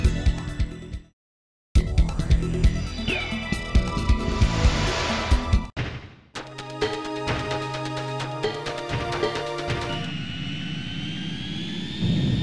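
Jet fighter in the PlayStation game Ace Combat 2 spooling up and taking off: a loud engine roar with layered whine and game music, cut by brief silences, then a steadier rising jet tone near the end.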